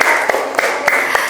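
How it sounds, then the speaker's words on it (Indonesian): A classroom audience claps for a student after her presentation, a short burst of steady applause with sharp individual claps standing out. "tepuk tangan untuk Mbak Kalila"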